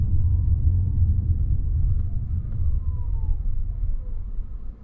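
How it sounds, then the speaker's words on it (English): Electric motors of a 2022 Toyota RAV4 Hybrid XSE winding down as the SUV comes to a stop, a faint falling whine over steady low road rumble inside the cabin. "you really hear the loud whining or the winding down of the electric motors here"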